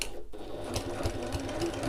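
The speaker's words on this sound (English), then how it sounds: "I've back stitched, sewn over, back stitched, and then I go to the other side" A sewing machine stitches forward and back over water-resistant cotton for a handy sack, giving a steady, close motor whir with a rapid needle chatter that runs without a break and with no talking.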